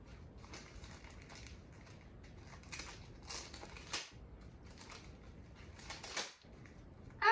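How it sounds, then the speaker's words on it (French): Crinkly paper and plastic packaging from a tightly wrapped advent calendar gift is tugged and torn, with bursts of rustling and scraping over a quiet room and a sharper rip near the end. "Ah, c'est même trop bien emballé. Je n'arrive pas à le déballer."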